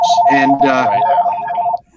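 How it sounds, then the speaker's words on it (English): A home telephone rings with a steady, pulsing electronic tone under a voice, then stops just before the end. "hope my wife answers the phone here."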